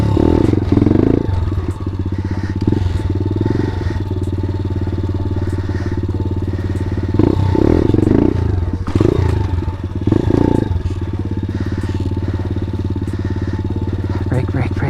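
A pit bike engine revs and idles during wheelie practice, a loud, close buzzing drone with repeated surges of throttle, while a voice talks over it.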